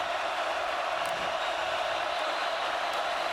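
A sellout stadium crowd of more than 83,000 at an Auburn Tigers vs Oklahoma Sooners football game roars in a constant, dense wash of noise, with no break from start to finish.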